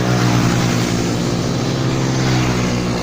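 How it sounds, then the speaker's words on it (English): A loud, continuous engine drone with a strong low harmonic hum from road traffic running steadily close to the microphone during a morning ride in Malaysia. "Excuse the traffic noise."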